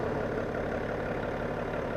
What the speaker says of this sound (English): Check it out, the car is moving back.